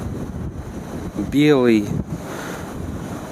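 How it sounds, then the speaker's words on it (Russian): Strong wind blows steadily across the middle deck of a cruise ship in fog near Valaam Island, making a loud, constant roar. A voice speaks briefly over the wind. "Сильный ветер довольно-таки дует."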